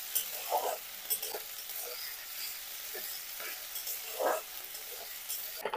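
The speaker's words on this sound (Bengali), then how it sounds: "আদা, রসুন আর পেঁয়াজ একসাথে ভালো করে নেড়ে নেব।" Onion, garlic and ginger paste being stirred in a pan for an Indian jackfruit chop filling, steady close sizzle with several scraping strokes of the spoon at irregular intervals, no talking.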